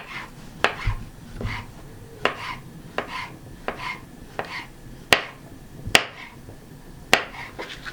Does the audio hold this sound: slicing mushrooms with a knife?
yes